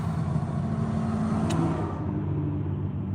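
A pickup truck engine idles as heard from inside the cab, a steady low rumble with an even hum, moderately loud and unbroken, with a single brief click near the middle and no talking.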